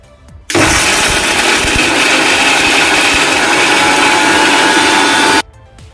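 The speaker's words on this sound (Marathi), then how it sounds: "मिक्सरच्या भांड्यामध्ये मी सर्व मसाले घालून घेतलेले आहेत थंड करून आता आपण हे वाटून घेऊयात" A kitchen mixer grinder runs on cooled spices for a katachi aamati masala. A loud, steady whirring grind starts abruptly, holds for about five seconds and then cuts off, with quiet room sound before and after.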